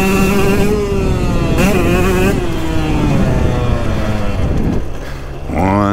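A 2022 KTM 125XC dirt bike with an FMF Factory Fatty pipe and Power Core 2.1 silencer revs up close. Its loud, buzzy engine note rises and falls in repeated pitch sweeps and ends with a sharp climbing rev.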